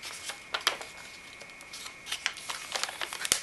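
A plastic bag crinkles and rustles faintly in sharp, irregular bursts as a computer case mesh is slid out of it, close by and quiet, with no talking.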